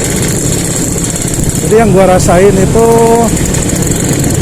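A 2004 Vespa Excel scooter engine runs with a constant buzzy, raspy idle-like drone, loud and close, while someone talks over it.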